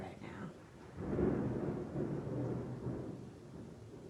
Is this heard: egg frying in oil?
no